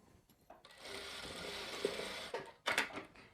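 A sewing machine stitching children's half pants, with a sustained mechanical whirring run in the middle and a brief louder burst near the end, quiet and close with no speech.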